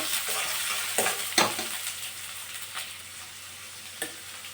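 Onions frying in a pan for shavige upma, a steady crackling sizzle broken by a few loud scraping stirs early on and a single sharp knock near the end, with no talking.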